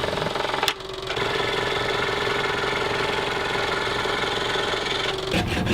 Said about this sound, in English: And then I'm going to just cut that out on my scroll saw.